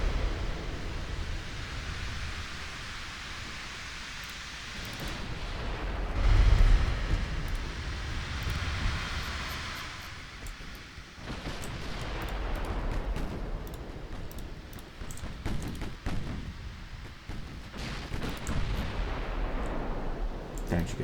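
Naval gunfire and shell hits in the Ultimate Admiral Dreadnoughts warship game, a continuous roaring rumble of battle with heavy booms swelling and fading, and a voice talking over it.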